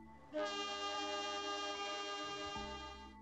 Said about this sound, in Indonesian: Lalu, peluit itu terdengar.